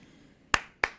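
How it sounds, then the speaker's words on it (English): A podcast host's two sharp hand claps about a third of a second apart, close to the microphone, in an otherwise quiet studio. "I had to clap on that"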